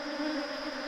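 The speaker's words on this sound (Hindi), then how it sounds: "इसके अंदर कुछ मधुमक्खी आपस में लड़ाई कर रही है" Honeybees fighting inside a hive give off a steady, dense buzzing drone, close and even in level, with no voices over it.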